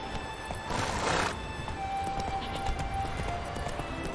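A galloping horse in The Witcher 3 sounds a loud whinny early on, then a continuous rush of hooves and movement plays alone against game ambience.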